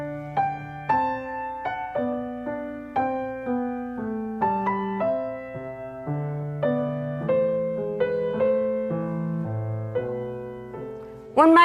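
Solo piano plays a plain, unornamented passage from a Bach French Suite: a steady stream of clear single notes over a moving bass line, even in rhythm and moderately loud, with no voices.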